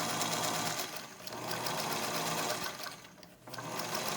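A domestic sewing machine stitches fabric along a line for a bowl cozy, a steady close mechanical whir with a brief slowdown and pause before resuming.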